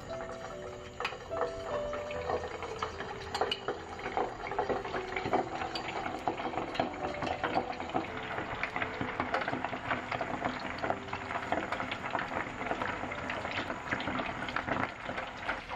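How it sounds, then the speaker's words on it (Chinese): Meatballs deep-fry in hot oil over medium heat, giving a dense, continuous crackling sizzle with fine bubbling that stays fairly quiet and even throughout, with no voices. "油热以后转中火，把挤出的丸子一个一个放入油锅里面炸"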